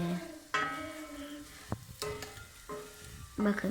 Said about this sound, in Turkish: Bakın bu şekilde karıştırıyoruz